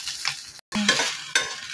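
Chicken fry being stirred in a hot pan with a spatula, steady sizzling and scraping strokes close by, with a short break before the stirring resumes.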